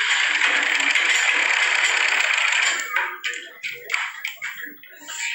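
A sewing machine stitches around a kurta neckline, running in a steady, loud whirring rattle at first, then breaking into short stop-start bursts as the fabric is turned.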